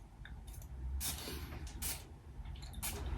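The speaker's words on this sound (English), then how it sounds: "We'll have a spray or two first." Several short, breathy spritzes of a Blue Oud perfume spray bottle by Arabian Oud, close by, spaced irregularly over a steady low background hum.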